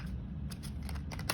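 Cards are shuffled in a few quick riffled bursts, crisp ruffling rising and falling against a steady low background hum, with no voices.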